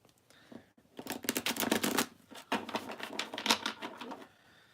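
Rapid papery riffling of tarot cards being shuffled, close up, in a dense burst of crisp flicks that pauses briefly and resumes before fading out.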